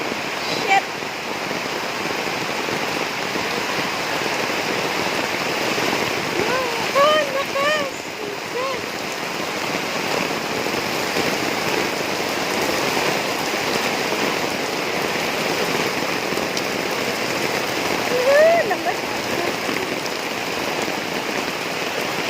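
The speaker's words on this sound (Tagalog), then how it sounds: "Ulan, guys, ulan. Lakas!" Heavy rain pours steadily in a dense, hissing wash, with a few faint voices and brief sounds rising briefly above the downpour.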